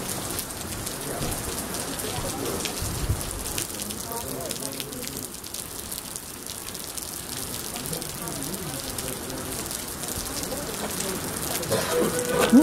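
Steady rain patters on a surface throughout in Suzdal, Russia, in August, an even hiss of drops at moderate loudness, with faint voices murmuring in the background.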